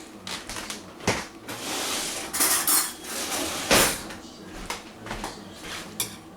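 Metal spatula and knife scraping and clanking against a baking pan as homemade stromboli is pried loose, irregular sharp scrapes and knocks close up with a few louder bangs.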